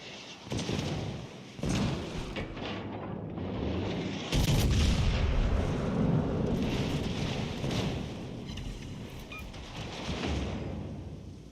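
Distant naval gunfire booms in World of Warships Legends, heavy rumbling blasts arriving from far off in a loose sequence over a dense, roaring battle background.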